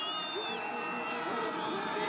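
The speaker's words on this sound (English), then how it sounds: "Crowd comes alive." A football stadium crowd at a college game rises into a steady roar of cheering, a dense, continuous wash of voices at moderate distance that holds level throughout.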